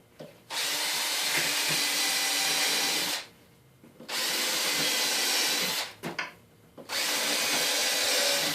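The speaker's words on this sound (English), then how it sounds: "I'll go through and just pre-drill it all." A power drill whirs loudly in three long bursts, pre-drilling screw holes while installing a window, stopping briefly between runs, with no talking.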